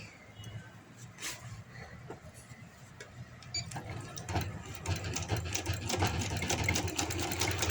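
A sewing machine stitches an umbrella plazo, its fast rhythmic needle chatter starting hesitantly, then running steadier and louder toward the end, close by with no talk over it.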